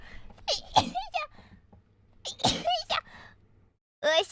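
Several sneezes come in quick succession with sharp bursts, two early ones close together and another about two seconds later, then a fourth starting at the end, heard up close in a quiet room.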